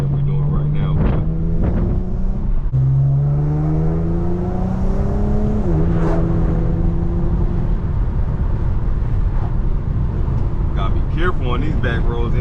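An Infiniti G37 driving on back roads, engine droning loud and close as revs rise and fall through shifts, with road and wind noise and speech at times.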